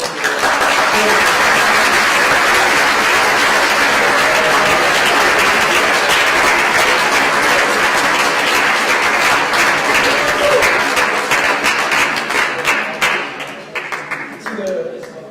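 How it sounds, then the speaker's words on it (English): An audience at a cum laude induction ceremony applauds the inductees, loud dense clapping that carries steadily for most of the stretch before thinning and tapering off near the end. "gives you a round of applause for everything that you've accomplished"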